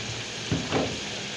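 Potatoes and spices frying in a pan: a soft steady sizzle with two brief stirring scrapes close by.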